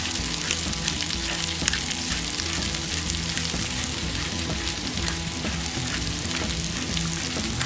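Food frying in oil on a flat-top Blackstone griddle, seasoned with salt and pepper after a squirt of oil, a dense, steady sizzle holding at even loudness throughout with scattered crackles, close and alone without talk.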